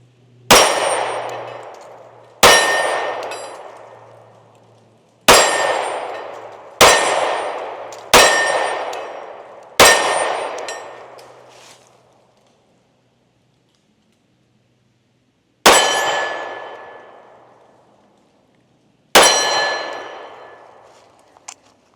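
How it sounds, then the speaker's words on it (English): Eight sharp, loud Canik Mete MC9L 9mm pistol shots ring out at uneven intervals, each crack decaying into a long metallic ring. A lengthy silent gap separates the sixth shot from the last two. "Actually, I'm going to shoot it right-handed a little bit."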